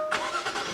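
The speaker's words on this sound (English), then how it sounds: "push the button to fire up the engine" A 2017 Jaguar F-Pace S engine fires up with a brief starter whirr that swells into a loud, rich rev, heard close and alone.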